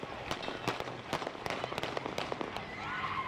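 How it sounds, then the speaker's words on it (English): Gunfire at a street protest, a rapid series of sharp cracking shots at irregular intervals, some closer and louder than others, over faint background noise. "Those peaceful protests suddenly giving way to gunfire"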